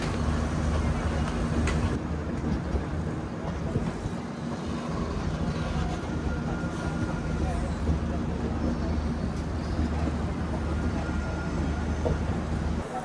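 A special passenger train arriving at Gaya Junction railway station, heard from aboard as a constant heavy rumble with a low droning hum, steady throughout with faint voices mixed in.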